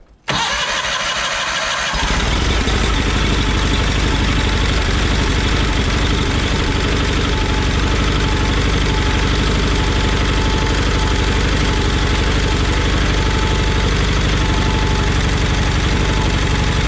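A John Deere 318 lawn tractor engine starts after a brief crank and settles into a steady, close, loud idle with a ticking valve noise running through it, with no one talking.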